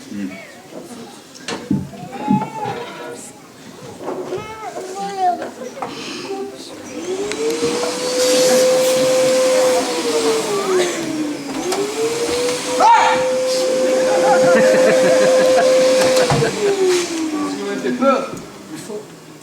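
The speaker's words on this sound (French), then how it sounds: "vous ne pouvez pas passer l'aspirateur maintenant" A vacuum cleaner runs with a steady whining drone that rises, holds, dips and rises again over several seconds, with a voice talking over the start.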